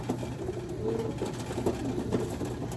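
A pigeon coos in low, repeated throaty phrases, close and fairly clear over a faint steady background hum.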